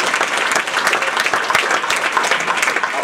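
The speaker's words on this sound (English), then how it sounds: "Give him a round of applause." Audience applause at a city tech debate for a former councilmember, a dense steady clapping crowd sustained evenly throughout, fairly loud and close.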